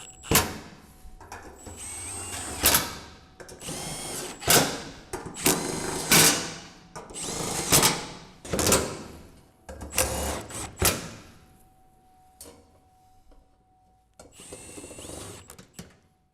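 A power tool drives bolts into the fenders of a 1965 Ford Mustang in a series of loud, close whirring bursts, each a second or so long with brief gaps. A softer pause comes near the end, then one last burst.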